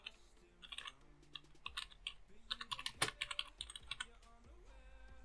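Quick bursts of keystrokes on a computer keyboard while text is typed into Archicad architectural software, close and clear, with irregular clicks and a sharper key press near the middle.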